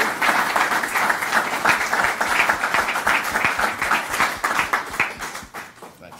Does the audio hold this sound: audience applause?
yes